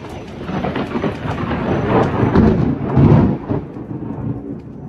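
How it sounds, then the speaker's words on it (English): Thunder from a nearby lightning strike during a storm, a deep rolling rumble that swells and peaks about three seconds in before fading, heard outdoors with no talking. "it went boom. So the lightning is attacking my neighbor's yard."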